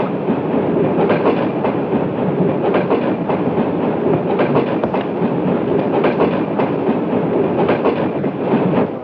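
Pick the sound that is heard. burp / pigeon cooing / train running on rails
train running on rails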